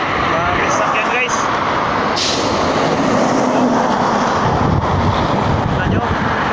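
Vehicles speed past on a roadside, making a loud, continuous roar mixed with heavy wind buffeting against the microphone. A voice is briefly heard early on.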